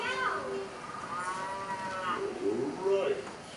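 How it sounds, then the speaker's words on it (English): On a farm, a cow moos in long, drawn-out calls, several lowing phrases that rise and fall, moderately loud over a faint background. "A cow."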